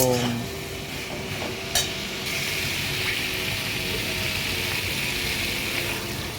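After water and green chillies are added to a fish curry in a pan, a steady loud hiss and bubbling follows, with a brief clink near the start, close up and with no talk.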